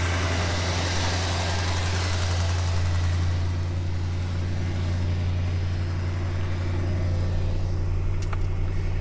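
A 1968 Mercury Park Lane Brougham sedan with a 390 V8 idles smoothly and steadily at close range, a low even rumble with no talking over it.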